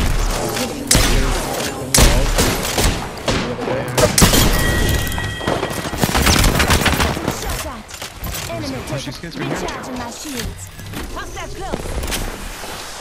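Video game gunfire: dense, loud bursts of shots and heavy booms pound almost without pause, with a player's voice talking over the battle.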